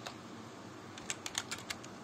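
A short string of computer keyboard keystrokes types a Linux cp command in a Debian terminal, a handful of crisp, irregular clicks over a faint steady hiss, with no talking.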